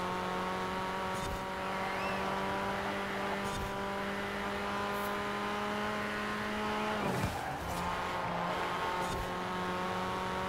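A Jeep Wrangler Rubicon driving in Forza Horizon 4, a steady droning engine note holding at a constant pitch, with a brief dip and rise partway through as the revs shift.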